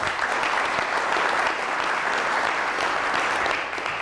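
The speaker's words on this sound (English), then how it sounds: "So you guys deserve a hand of applause for that." A crowd at a speaking event gives sustained, even applause, full and close, with no talk over the clapping.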